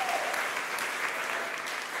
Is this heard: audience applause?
yes